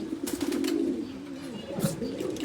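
Pigeons coo softly nearby, a low throaty warbling in a few rolling phrases, with faint background noise and a brief voice.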